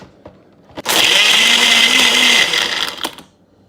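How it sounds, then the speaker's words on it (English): A blender whirs through a shake with ice cubes: a few clicks, then a loud, steady high-pitched motor roar for about two seconds that winds down and stops, with no voices. "So I'm gonna put this on the blender."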